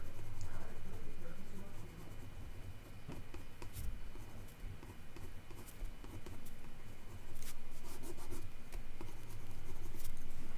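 Pencil scratches and rubs across paper in short strokes, close and soft, with occasional light taps and faint room noise.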